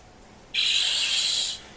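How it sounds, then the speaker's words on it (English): A short bright electronic whir rises in abruptly and holds for about a second before cutting off, the charge-up tone of a Power Rangers toy morpher as the blue Triceratops coin is inserted. "Got a nice little charge up noise when you put it in."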